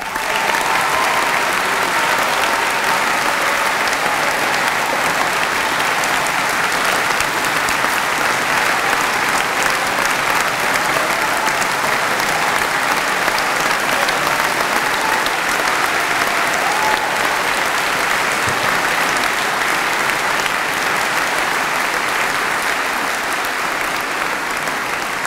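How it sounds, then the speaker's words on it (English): Sustained applause from a large audience for graduates at a London degree ceremony, steady dense clapping that carries on for the full stretch without pause. "Let's give all the graduates another round of applause"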